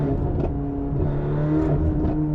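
Mercedes-AMG GT Black Series engine coming off the throttle, a steady, close droning engine note with layered tones and no talking.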